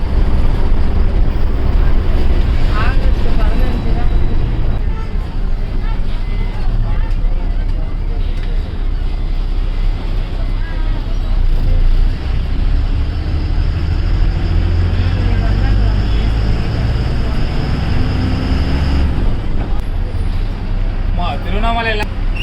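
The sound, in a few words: bus riding into Tiruvannamalai new bus stand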